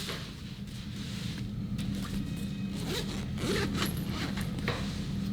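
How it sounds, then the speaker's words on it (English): A YETI Crossroads packing cube being zipped closed, a series of close, rasping zipper pulls with short pauses as the fabric is tucked in along the way, no talk. "you just kind of tuck it in as you're zipping, and it goes pretty easily"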